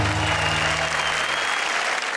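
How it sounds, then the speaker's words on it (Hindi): Loud, dense applause from an audience at a comedy-poetry show, greeting poet Sharad after his recitation; continuous clapping that holds steady and begins to thin toward the end. "जोरदार तालियां शरद के लिए"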